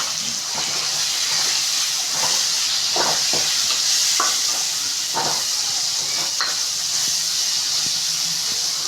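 Chopped tomatoes and green chilli sautéing in hot oil for Tamil fish curry, a steady close sizzle and hiss with intermittent scrapes and stirring clicks from a spoon.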